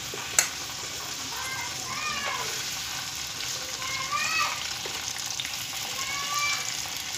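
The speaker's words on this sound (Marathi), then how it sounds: "छान असं फ्राय करून घेऊया आपण तेलामध्ये" Chopped onion and sliced garlic frying in hot oil, a steady close sizzle with occasional stirring scrapes running throughout, fairly quiet with no clear voice over it.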